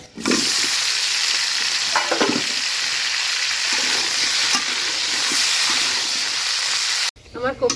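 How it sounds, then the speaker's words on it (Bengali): Turmeric-coated cauliflower frying in a pan gives a loud, steady sizzle with occasional stirring scrapes, running unbroken for about seven seconds before cutting off sharply. "এবার ফুলকপিটা আমি হালকাভাবে ভেজে নিব"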